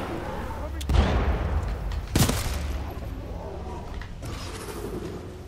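Grenade blasts and gunfire from the video game Titanfall 2: two heavy booms about a second apart in the middle of continuous battle noise, with a player talking over the action.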